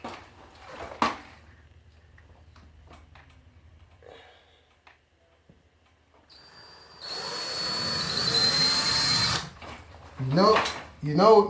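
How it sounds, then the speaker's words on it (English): A power drill boring into a wooden wall stud while a TV mount goes up, a short loud whirring burst in the middle with quieter tool handling and clatter on either side. "You know you got the stud is when it gets a little hard to go in."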